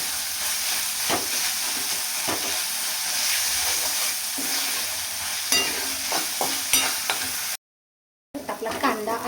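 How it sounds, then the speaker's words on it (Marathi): Onion sizzles steadily in hot oil in a home kitchen pan for a bitter gourd masala dish, a continuous bright hiss broken by occasional spatula scrapes, with a brief dropout near the end. "कांदा गोल्डन कलर होईपर्यंत छान परतवून घ्यायचं आहे"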